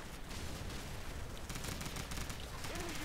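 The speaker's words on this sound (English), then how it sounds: "I'm shooting directly at him, aren't I?" Dense, sustained gunfire from Call of Duty 4 fills the scene as a steady roar of rapid shots with no break. It stays fairly quiet overall.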